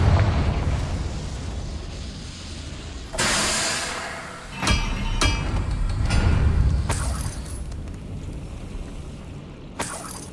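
Several Confringo explosive spells burst in Hogwarts Legacy. Each sharp, bright blast with crackling debris stands over a rumbling low background, and the impacts come at irregular intervals.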